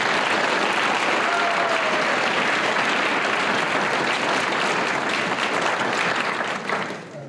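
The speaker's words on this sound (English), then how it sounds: "Let's give them a round of applause as well." Sustained applause from an audience at a senior awards night, loud and dense clapping throughout, tapering slightly at the very end.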